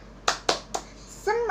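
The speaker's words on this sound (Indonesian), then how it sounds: "Tepuk semangat." Participants at an early-childhood teacher training session do a spirit clap, three sharp claps in a quick rhythm in a quiet room, followed by a voice speaking.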